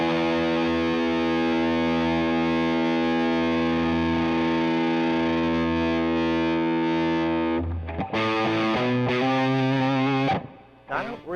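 A loud, heavily distorted electric guitar chord rings out steadily through a tremolo pedal in sine mode, then gives way to choppier notes and a short pause near the end.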